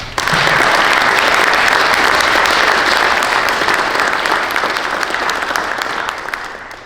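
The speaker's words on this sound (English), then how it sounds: "please join me once again in applauding all of our new Honor Society members" A large audience at a National Honor Society induction ceremony applauds new members, dense sustained clapping that stays loud and even for several seconds before easing slightly at the end.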